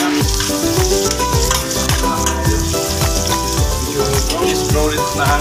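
Native chicken frying in a pan for tinola, a steady close sizzle with rhythmic stirring and scraping knocks throughout, loud and continuous with no talk over it.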